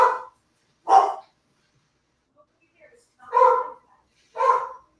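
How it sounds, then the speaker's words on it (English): Dogs barking outside during a dog fight, four loud bursts of barking spaced a second or so apart with faint yips between them, fairly close and heard without talk. "I think there's a dog fight going on out there"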